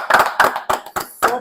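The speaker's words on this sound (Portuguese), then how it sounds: "Pessoal, Salva de palmas." Applause from a small podcast audience, heard as five short bursts of hand claps, each lasting about a quarter second, in an uneven rhythm with brief gaps between them, close and moderately loud.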